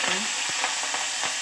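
Mustard seeds, cumin and curry leaves sizzle in hot oil for a tempering, a loud steady hiss with faint stirring scrapes and small pops, heard close and alone.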